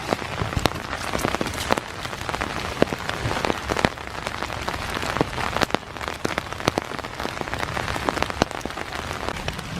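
Steady rain patters on a foggy morning in Iroquois Park, with dense scattered drops striking surfaces such as an umbrella, continuous and close throughout with no voices.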